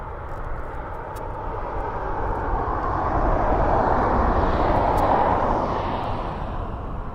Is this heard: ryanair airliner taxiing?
yes